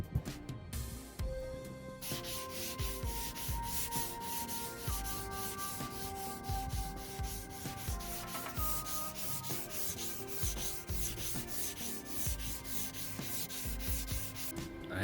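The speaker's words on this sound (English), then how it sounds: "First thing I did was sand the entire wing with some 220 grit sandpaper." A car's front wing is sanded by hand with 220 grit sandpaper, producing continuous scratchy rubbing strokes at close range with a steady back-and-forth rhythm, heard alone without talk.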